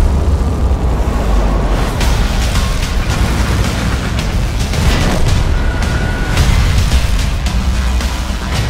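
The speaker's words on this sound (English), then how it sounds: "Locate and destroy enemy artillery with the quick-firing 90mm gun." A 90mm quick-firing gun on an M41 90 GF light tank booms in World of Tanks, heavy explosive blasts and rumbling battle noise filling the scene continuously and loudly, with no voices.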